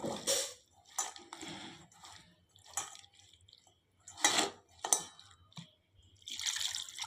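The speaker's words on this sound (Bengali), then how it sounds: "এরপর পরিমাণ মতো জল দিয়ে দিল" Water is poured into a pan of prawns in a home kitchen, producing uneven splashy bursts and drips in separate spurts with short quiet gaps, close and fairly faint, with no talk.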